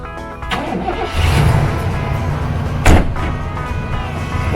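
A Chevy work van that sat for 15 years idles roughly, then gives a thump and a short burst of noise as its transmission drops into gear, all close by with no one talking.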